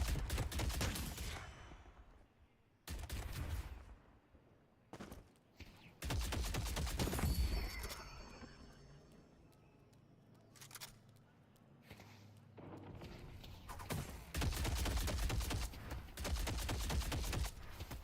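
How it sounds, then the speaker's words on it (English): Rapid automatic gunfire in a PC video game running under Proton 10 Beta, loud dense bursts with short pauses between volleys and fainter footsteps and effects in the gaps. "Man, firing rate is getting crazy, no?"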